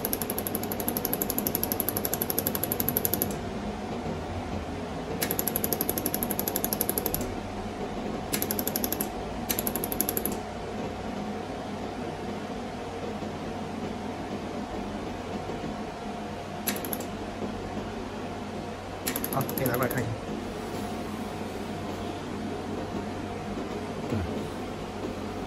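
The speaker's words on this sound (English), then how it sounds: "You press it, it will be continuously welding." A SuperbMelt mini laser welder working on gold, silver or platinum jewelry runs in continuous mode, giving steady close mechanical clicking and rattling pulses with short bursts of high whine, no talk.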